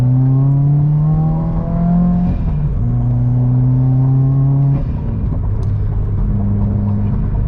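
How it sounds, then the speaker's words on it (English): A loud, deep engine note from a modified Subaru WRX, its rumbling exhaust and induction pitch climbing and dropping in steps as the revs change, with no talking. "It sounds great, the exhaust note, the induction noise, the backfire"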